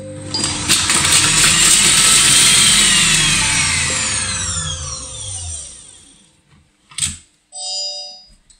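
A kitchen food processor chops two garlic cloves at speed 7. Its loud motor whirs for several seconds, then winds down and stops, followed by a short clunk and a couple of electronic beeps.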